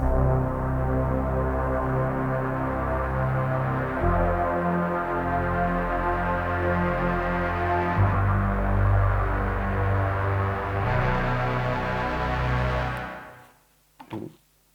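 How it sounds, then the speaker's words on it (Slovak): A Moog Model D synthesizer plays a sustained, droning low tone that shifts pitch every few seconds. It stays steady and loud, then cuts off near the end, followed by a couple of brief clicks, with no voices. "napríklad Moogu Model D, ak to správne pomenúvam, a takisto zapnem rekord, automaticky to na to reaguje a hrám"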